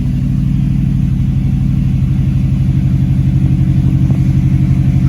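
Steady, loud idle of a 2005 Subaru STI warming up, a low, continuous rumbling engine drone with an even pulsing beat throughout and no voices.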